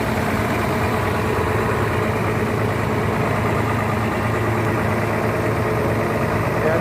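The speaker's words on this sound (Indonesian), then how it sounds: "Mesin juga masih halus ini ya." A steady, smooth diesel idle from a loaded intercity bus, the ALS 240 Laskar Wong Kito Reborn, low and continuous throughout with faint background voices.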